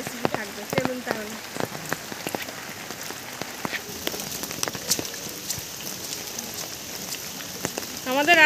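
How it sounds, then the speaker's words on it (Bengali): Rain falls outside a rural Bengali home on a muddy road, a continuous close patter broken by sharp drips and taps of drops on nearby surfaces, with a brief swell near the end. "কারণ বাইরে বৃষ্টি হচ্ছে"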